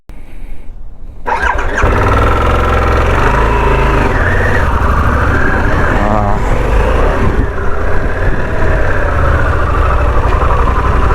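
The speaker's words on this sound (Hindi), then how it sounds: "you don't need key to start the motorcycle" Keyless start of a Harley-Davidson Pan America 1250cc motorcycle: after a brief quiet moment the engine cranks and catches, then settles into a loud, close, steady idle rumble that continues for the rest of the clip.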